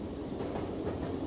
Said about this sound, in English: Because it's making train sounds.